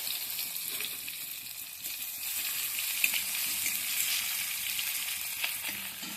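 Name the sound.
mustard seeds and tomato frying in oil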